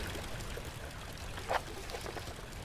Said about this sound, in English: One pipe is loose and leaking water.